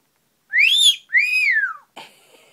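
Two rising-and-falling whistles from a parrot, clear and close, followed by a brief rustle.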